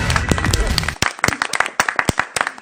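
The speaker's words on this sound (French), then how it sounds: "On peut applaudir, s'il vous plaît." A studio audience claps at a televised French quiz show with eight experts, a burst of sharp, uneven hand claps after a short stretch of talk and noise, the claps scattered and close.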